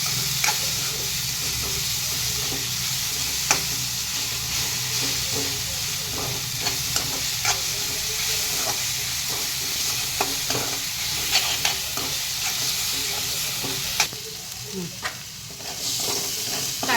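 Green chilli, garlic paste and kasuri methi sauté in a hot pan with a steady, loud sizzle throughout, broken by frequent short scraping and clicking strokes of a spatula, with the sizzle briefly softening near the end.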